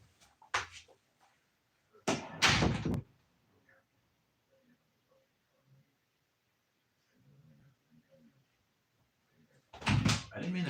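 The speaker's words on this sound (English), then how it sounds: "I didn't mean to close the door, damn it." A closet door shuts indoors with several loud thuds and rattles spread across the clip, separated by quiet stretches with faint movement.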